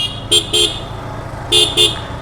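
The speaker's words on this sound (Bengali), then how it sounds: "আরটিআর এর যে হর্ন" Two pairs of short, loud horn beeps from a TVS Apache RTR 160 2V ABS motorcycle sound close by over a steady engine idle.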